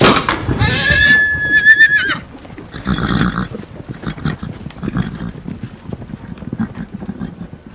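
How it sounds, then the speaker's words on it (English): A horse whinnies loudly and shrilly up close, followed by rustling, snorting and hoof movements in an outdoor setting. "but the horses won't let him get near."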